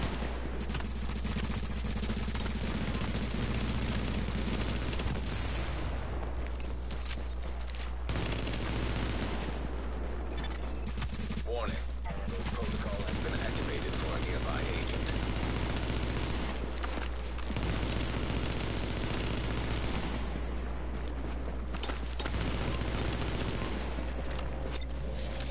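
Continuous rapid gunfire from a video game during a 1v1 match, steady and loud throughout, with brief dips between bursts and no talking.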